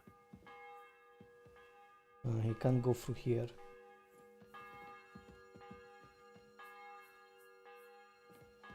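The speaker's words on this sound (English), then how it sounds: "The bell's ringing for Hans the 5th time." A church bell tolls in Kingdom Come: Deliverance 2, several ringing strikes that leave long sustained tones, with someone talking briefly over the ringing.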